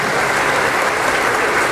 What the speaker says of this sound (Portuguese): Uma salva de palmas para esses irmãos e irmãs.